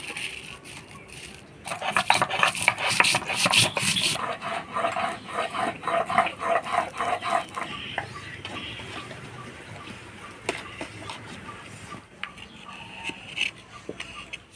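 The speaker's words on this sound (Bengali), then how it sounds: "এবার শুকনো লঙ্কা বাইটে নিব, তার সাথে আমাদের গাছের কয়েকটা পাকা লঙ্কা দিয়ে দিছি।" Dried red chillies, a few ripe chillies and spices are ground by hand on a grinding stone, making rhythmic rubbing and scraping strokes that are loudest early on and then ease into softer, irregular grinding.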